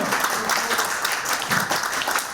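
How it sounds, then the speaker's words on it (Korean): An audience at a political seminar in Korea applauds, a steady, moderately loud patter of many hands clapping, sustained without any speech over it. "여러분 박수."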